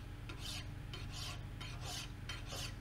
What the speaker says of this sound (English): Just a hacksaw and files to get the most of it out of the way.